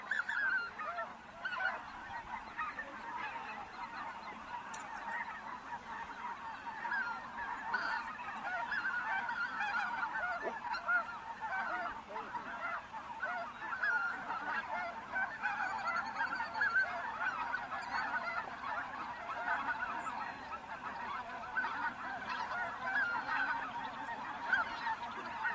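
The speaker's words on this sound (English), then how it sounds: "These are snow geese." A flock of snow geese honks steadily for the whole stretch, a dense chorus of overlapping calls at moderate distance, with no voices over it.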